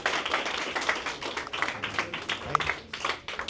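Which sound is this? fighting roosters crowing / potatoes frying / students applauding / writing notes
students applauding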